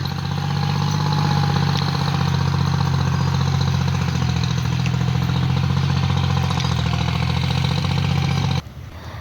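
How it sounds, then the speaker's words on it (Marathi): A tractor engine idles steadily while halted mid-sowing of soybean with fertilizer on a farm field, a continuous low mechanical rumble with no speech, ending abruptly just before the end. "आता ट्रॅक्टर थांबलाय कारण त्याच्यामध्ये खत आणि सोयाबीन दोन्ही एकत्र टाकून टाकू राहिलेली आहे"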